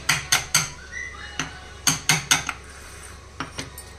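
Ground masala powder being transferred into a bowl, a run of sharp metallic clinks and taps of a spoon against metal, in irregular clusters, close and fairly loud with quiet gaps.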